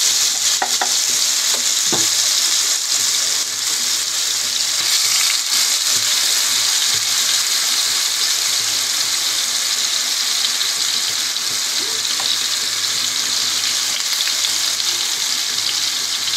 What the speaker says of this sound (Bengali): এখন আমি এই পেঁয়াজগুলি দিয়ে ভালো করে ভেজে নেব